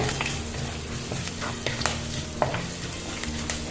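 Steady sizzling of crushed garlic frying in a pan for garlic pepper rasam, with scraping and clinking as it is stirred, close up and without speech.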